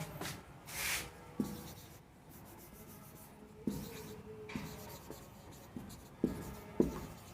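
Chalk or marker scratching on a classroom board during an environmental studies lesson for civil engineering polytechnic students, forming quiet irregular strokes with several sharper taps, and no talk over it.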